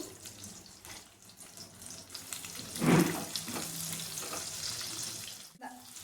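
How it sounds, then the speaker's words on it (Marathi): Chopped onion hits hot oil in a pan and sizzles, a soft steady frying hiss with a brief louder burst midway and faint clatter. "नंतर थोडं गरम झाल्यावर कांदा टाकू थोडासा कांदा परतून घेऊ"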